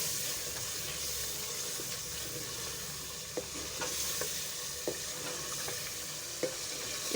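Meat frying in an onion gravy with whole onion pieces, for a chicken and mash dal dish, sizzles steadily while a spoon stirs with a few sharp scraping knocks against the pan, close and fairly quiet with no talk.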